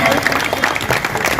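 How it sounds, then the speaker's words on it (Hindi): A hall full of listeners at a Hindi poetry gathering in Patna claps loudly and thickly, a continuous wash of applause from a large crowd filling the short moment. "एक बार मेरे स्वागत में पुनः अनघोर तालियां बजा दीजिए।"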